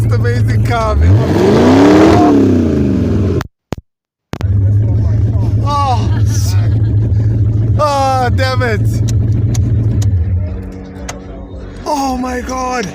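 A classic V8 car at a car show pulls hard during a passenger ride, its loud, deep engine roar rising and swelling close by while riders talk and exclaim over it.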